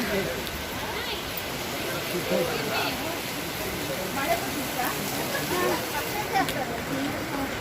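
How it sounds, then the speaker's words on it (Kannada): Steady heavy rain hisses in the background at a temple while a person talks over it. "ತುಂಬನೇ ಮಳೆ ಬರ್ತಿದೆ"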